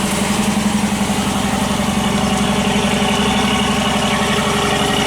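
Dodge Durango RT V8 with a chopped exhaust idling steadily, a close, continuous rumbling drone with a slight pulsing throb and no other sounds over it.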